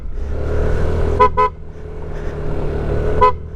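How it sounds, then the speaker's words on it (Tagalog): A car horn toots twice in quick succession at a blind spot on a rocky hill road in rain, then once more a couple of seconds later, over the steady rumble of a running engine. "Ito, kailangan mong bumusina dito."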